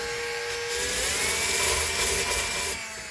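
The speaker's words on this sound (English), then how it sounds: "We're just kind of sanding those little rust spots off" Steady power sanding of rust spots on the metal body of a 1985 Mercedes 300TD wagon, a harsh whirring grind with a rising whine that holds for about three seconds before easing off.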